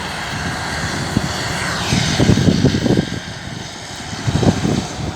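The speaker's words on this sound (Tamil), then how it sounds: "ஹவாயியன் அடுத்த ஆள் வந்து லேண்ட் பண்ணிக்கிறாரு." An airliner landing at Sydney Airport roars nearby, a loud engine rumble that swells in two surges over a steady background drone, with no voices.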